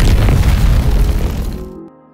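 A loud, deep booming bomb blast destroying a pirate base and collapsing a large building, rumbling heavily, then fading out over about two seconds.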